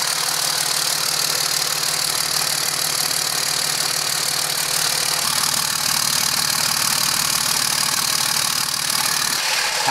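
A Cummins diesel engine in a dually pickup truck idles steadily just after starting, with a rough, knocking rumble and rattle that holds constant and close throughout, with no talk.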